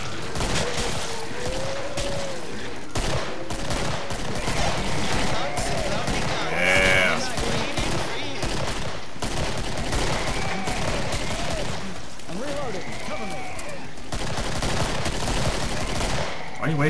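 Continuous gunfire from the co-op shooter Killing Floor rattles on throughout, dense overlapping shots and bursts under chatter and game noise, with creature groans mixed in.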